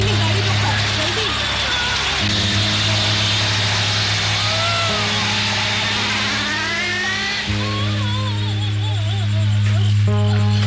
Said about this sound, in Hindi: सौदामिनी, गाड़ी रोको जल्दी।